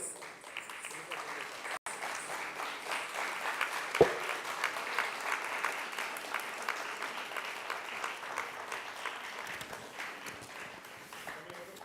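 An audience applauds a prize winner at a national Odissi dance competition in 2023, with sustained, even clapping from a large crowd that fills the hall and carries on over a faint voice.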